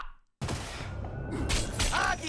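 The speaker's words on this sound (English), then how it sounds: "A flashbang?" Flashbang grenade going off in a video game, a sudden loud burst after a brief silence, followed by a ringing, noisy wash; a voice exclaims near the end.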